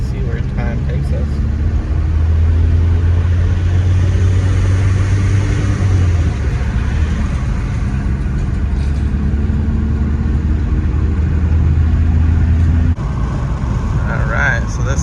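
VW Jetta TDI diesel car, a $400 purchase with its ABS warning light on, accelerating toward 60 mph on the road. A steady, loud low engine drone and road rumble fill the cabin continuously, easing slightly near the end.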